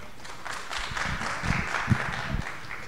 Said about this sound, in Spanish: primeramente un aplauso hacia ella.